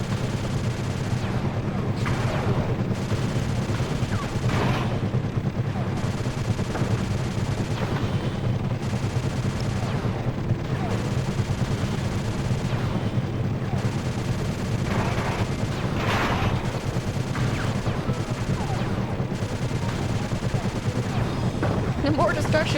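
Turret gunfire in a Sly Cooper game, sustained and loud, with rapid bursts and booming impacts over a constant rumbling engine drone; no talking.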